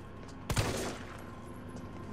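A single sharp gunshot from the Resident Evil 3 video game bursts out loudly, then decays into a low, steady game ambience.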